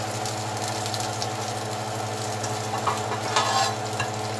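Onions cook in a pan for street tacos, giving a steady bubbling sizzle over a low constant hum, with a few light stirring scrapes near the end and nobody speaking.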